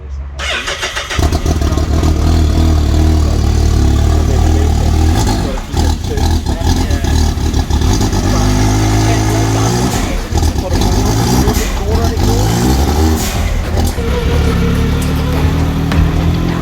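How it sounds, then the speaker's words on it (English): A Can-Am Maverick X3 RC Turbo side-by-side starts up and runs close by, its engine idling roughly with repeated sharp revs and turbo whooshes, loud and continuous throughout. "This is Paul's Can-Am Maverick X3 RC Turbo"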